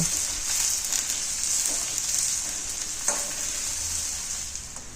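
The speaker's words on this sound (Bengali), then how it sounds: "পেঁয়াজ কুচিগুলিকে হালকা ভেজে নেব" Steady sizzling of chopped onions lightly frying in hot oil, a continuous bright hiss with a few soft stirring scrapes, close up and with no voices.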